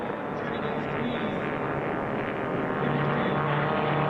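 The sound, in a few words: racing propeller aircraft flying during an air race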